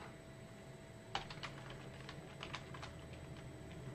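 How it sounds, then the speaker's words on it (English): Quiet computer keyboard typing while installing PyCharm on a Raspberry Pi 4: a short run of light key clicks over a steady background hum. "I hit the tab button on my keyboard"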